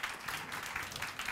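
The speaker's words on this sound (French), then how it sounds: "Je pense que vous pouvez les applaudir" A panel audience at a roundtable clapping for the speakers, a brief, soft patter of hands that stays even and moderately distant.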